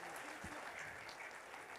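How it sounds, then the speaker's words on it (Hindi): A live audience applauds for the late actor Satish Kaushik at a talk-show stage event, a quiet, steady patter of clapping from a distance that lasts the whole moment. "प्लीज़ तालियां हो जाए सतीश कौशिक के लिए।"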